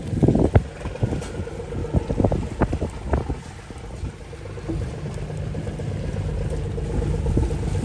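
Force 5 to 6 afternoon wind buffets a fishing boat at sea, with gusty low rumbling over the hull, irregular knocks and thumps early on, then a steady windy roar.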